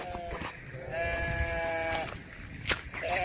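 Hair sheep on a farm during heavy rain, bleating in a few drawn-out calls from a moderate distance over a steady hiss of rainfall and outdoor noise.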